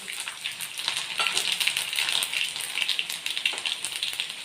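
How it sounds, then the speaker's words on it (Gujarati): Mustard seeds, cumin, a pinch of asafoetida and seven or eight chopped garlic cloves sizzle in hot oil, giving a close, steady, dense crackle and spatter with no talking. "તેલ ગરમ થાય એટલે થોડીક રાઈ ચપટી જીરું ચપટી હિંગ નાખી અને સાતથી આઠ લસણની કળીના કટકા નાખી દઈએ"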